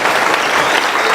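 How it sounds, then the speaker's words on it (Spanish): Dense, loud applause from a church congregation honoring the Lord during a Catholic sermon, a steady wash of many hands clapping through the whole short moment with no voices on top. "Aplauso para el Señor"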